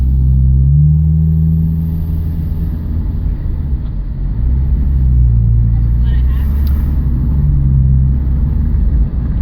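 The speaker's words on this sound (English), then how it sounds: "when I really press the gas, you know, the pitch, the sound actually goes down. It's like it's choking on something" Engine of a 2000 Subaru Legacy with low power, droning and bogging as the gas is pressed hard while driving, its pitch sinking as if choking; someone talks over the steady rumble.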